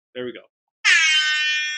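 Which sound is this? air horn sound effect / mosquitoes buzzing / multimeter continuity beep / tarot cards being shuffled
air horn sound effect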